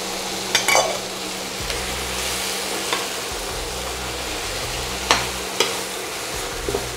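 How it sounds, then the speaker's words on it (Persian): Meat and split peas sauté in a pan, giving a steady close sizzle with a few sharp clinks and scrapes of stirring spread through it, and no voices. "رنگ گوشتمون عوض شد، لپرم یه تپ میدیم باهاش."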